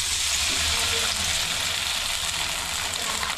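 Sandige fritters fry in hot oil during village Ugadi festival cooking, a dense continuous sizzle and bubbling hiss, loud and close, with no speech.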